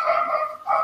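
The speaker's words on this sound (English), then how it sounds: "house guard dog is going ballistic" A house guard dog barks in the background, set off by the doorbell, giving a short, sustained, somewhat muffled bark or howl that dips briefly and then rises again.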